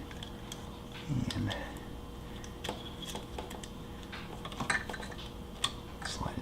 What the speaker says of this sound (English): Loosen the ring compressor